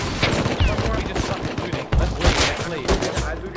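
Rapid gunfire rattles in the video game Rust, bursts of close, sharp shots in quick succession across the whole stretch, with a voice faintly talking among the shooting.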